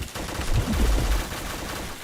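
Video game gunfire bursts out in a dense, continuous spray of shots, loudest around the middle and carrying on steadily to the end, with no talking over it.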